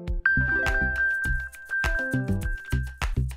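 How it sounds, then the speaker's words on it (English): An iPhone plays its Find My 'Play Sound' alert: a loud, bright electronic chime repeating in quick melodic bursts over a sustained high tone, alone with no talking. "Your misplaced device will chime, and you'll hear this sound."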